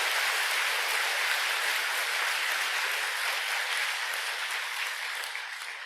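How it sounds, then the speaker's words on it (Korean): Applause from an audience at a Buddhist temple dharma talk fills the space: dense, sustained clapping at steady loudness, tapering slightly toward the end, with no voices over it. "박수 치는 거 봐"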